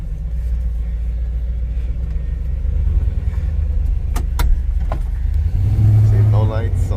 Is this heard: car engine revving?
yes